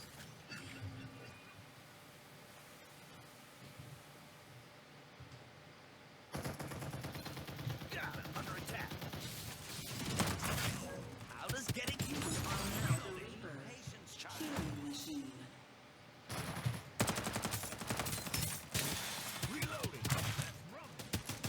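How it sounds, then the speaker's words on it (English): Artillery and gunfire in a PC video game, bursts of booming shots and rapid firing that start abruptly and come in dense waves with brief lulls. "Time for some artillery."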